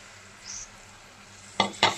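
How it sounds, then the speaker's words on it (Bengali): Spiced water goes into a pan of frying garlic chicken with chilli powder. A quiet low sizzle gives way to two loud, brief hissing bursts near the end. "একটু মশলা দেওয়া জল দিয়ে দিচ্ছি।"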